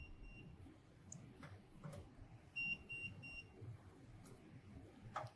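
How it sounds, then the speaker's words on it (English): A few faint, high electronic beeps from the anti-collision system of a Focus Alpha Max 6250 machine sound briefly over a steady low mechanical rumble, in short bursts separated by pauses. "We have beep sounds coming out."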